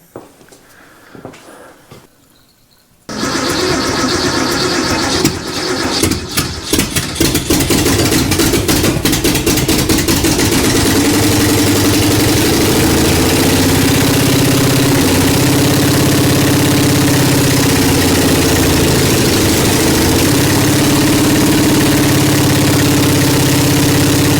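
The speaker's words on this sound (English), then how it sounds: "I'd like to get it to idle so I can put it in gear, check out the transmission." A Ford 351 Windsor V8, started for the first time in decades, catches after quiet shuffling and settles into a loud, rough, rumbling idle that runs on steadily and close.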